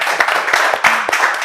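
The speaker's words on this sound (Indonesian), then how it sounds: "Oke teman-teman, Gigi tepuk tangan men" Applause from a small group of friends, uneven, close claps with loose rhythm over a short burst, with some voices mixed in.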